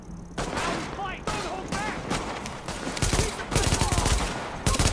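Dense automatic gunfire fills a firefight in The Division video game, rapid loud bursts overlapping one another almost without pause, with someone talking over the shooting.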